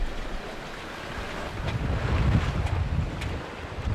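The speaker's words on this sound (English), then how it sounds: "I'm just enjoying the morning noises. The wind, the waves, the sun coming up across the back." Wind and waves at sea aboard a sailboat off Belize at sunrise, a steady broadband rush of gusting wind buffeting the microphone and surf washing past the hull, swelling louder midway and continuing without speech.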